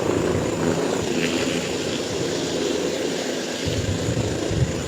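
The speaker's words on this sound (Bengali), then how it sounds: "হেলিকপ্টার কিন্তু নামছে হেলিকপ্টার কিন্তু ইতিমধ্যে ল্যান্ড করছে" Loud, continuous rotor and engine roar from a nearby landing helicopter, with a dense whooshing wash of strong downdraft air throughout.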